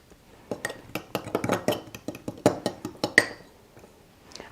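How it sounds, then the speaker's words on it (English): A fork whisks salad dressing with spices and salt in a bowl, giving quick, close metallic clinks and taps in an irregular burst of strokes that tapers off after a few seconds. "Give that a good mix with a whisk or a spoon or a fork."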